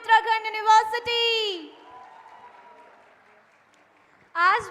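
Audience applause for dance performers at a university international conference evening: a soft, steady patter of clapping that follows a voice and fades out before another voice begins.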